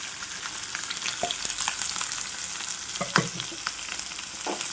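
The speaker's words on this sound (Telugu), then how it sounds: "ఇవన్నీ కూడా చక్కగా అటు ఇటు తిప్పుకుంటూ ఫ్రై చేసుకోవాలి" Onion, green chilli, ginger and garlic paste fry in hot oil for a cauliflower masala, with a steady loud sizzle and occasional spoon scrapes as the pan is stirred; no voices.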